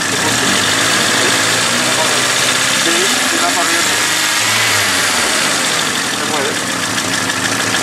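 A classic 40-year-old Japanese carbureted car engine runs and revs, a steady mid-pitched hum rising and falling as the throttle is opened, close and loud, with someone talking over it.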